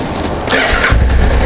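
A Honda CTX700N motorcycle, just reassembled with its fairings back on, starts on the first try. A short whirr comes first, then the engine catches with a sudden deep, loud rumble.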